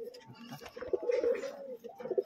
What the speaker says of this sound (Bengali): এগুলো হাই কোয়ালিটির পায়রা